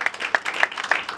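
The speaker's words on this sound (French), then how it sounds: "nous allons applaudir cette initiative de Bella Production" Short burst of a small audience clapping at an artists' event in a French-speaking setting, sharp irregular claps, fairly close and clear.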